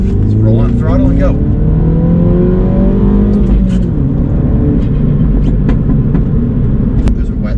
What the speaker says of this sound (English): you guys can see me actually trying to rev match my car